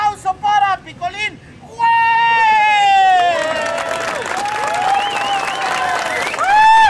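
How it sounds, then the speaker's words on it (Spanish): Crowd applause and cheering from an audience at an outdoor clown show in the Alameda. The clapping swells loud and steady across most of the clip, with whistling and shouts in the mix, following a brief stretch of someone speaking. "fuerte el aplauso"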